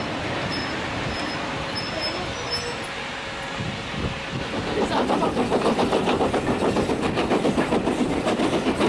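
A heritage train on the Keighley & Worth Valley Railway rumbles steadily along the rails, then a rhythmic clatter of wheels over track joints builds and repeats, loud and close.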